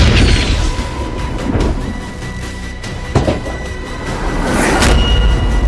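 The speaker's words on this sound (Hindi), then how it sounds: "होस्टोमेल हवाई अड्डे पर जोरदार धमाका।" Loud, rumbling blasts over a continuous roar, with sharp cracks and a heavy boom rising near the end, from an explosion at Hostomel airport in Ukraine during the Russian attack.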